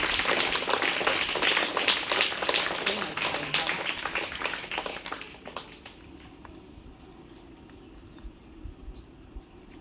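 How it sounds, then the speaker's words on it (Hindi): An audience applauds at a school prize ceremony, dense clapping for about five seconds that then tapers into scattered claps and murmuring voices. "इसके लिए जोरदार ताली किया जाए"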